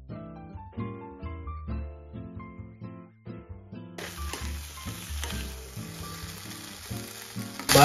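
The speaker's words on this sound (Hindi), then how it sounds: "अभी चिकन डालते हैं।" Chicken drops into a pan of frying potatoes and bamboo shoots with ginger garlic paste, and a sudden hissing sizzle starts halfway through. It carries on steadily under melodic background music that plays throughout.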